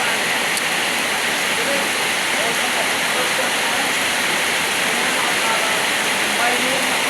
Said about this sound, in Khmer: ភ្លៀងខ្លាំងទៀតដែរ